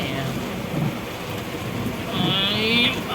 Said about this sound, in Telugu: చీరాల్లో ఈ వర్షం పడింది అనుకోలేదు